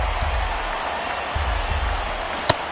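Stadium crowd in MLB The Show 23 during a tense one-run ninth inning, Red Sox versus Guardians, keeps up a steady, even roar of cheering and murmur throughout, with no one speaking over it.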